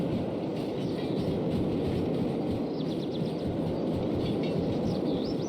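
Train in a rail-yard simulator game, running 48 cars around a curve, giving a steady loud rumbling roll with faint high chirping squeals over it throughout.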